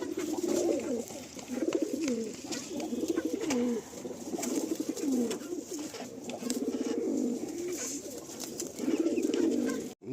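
Pigeons in a full loft coo in repeated, overlapping low warbling phrases, close and continuous, with occasional wing and perch rustles and no talking.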